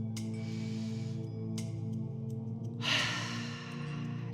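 Deep breaths are drawn and released during a vinyasa yoga session, with soft airy exhales spaced a second or more apart and one louder breath near the end, all over a steady low background hum.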